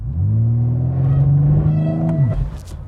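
A BMW M4 Convertible switched to two-wheel drive on wet pavement does a brief burnout: a loud, close engine drone holds steady, then drops away, with a short hiss at the end.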